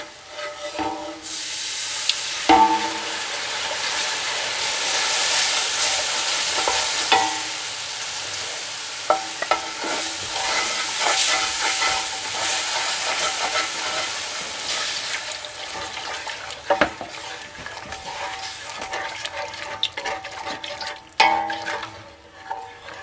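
Two cups of milk poured into a hot pan for country gravy, sizzling and bubbling steadily with stirring and scraping, occasional sharp clinks of a utensil against the pan.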